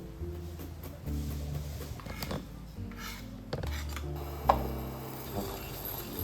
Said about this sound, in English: Chopping a garlic.